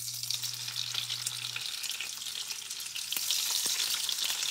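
Smoked premium bacon fries and splatters in a pan, a bright, constant sizzle that grows louder toward the end, with a low hum at first and a couple of soft knocks.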